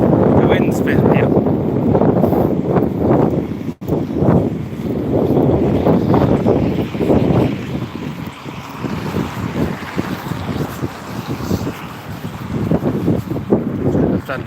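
Strong wind buffets the microphone outdoors in Helsinki, a steady broadband roar with gusts that swell and ease throughout, while people talk over it at close range.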